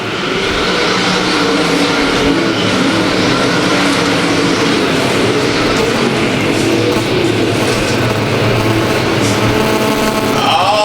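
Race cars roaring around Thunder Hill Speedway in an A-main: a loud, continuous wall of engine noise with overlapping, shifting pitches and no pause throughout.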